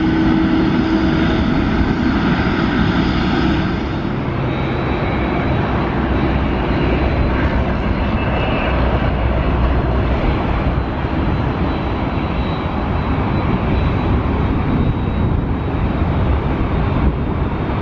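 An Asiana Airlines Boeing 777-200ER takes off from Sydney Airport, a loud sustained jet engine roar with a high whine that drops away after a few seconds as the rumble continues steadily.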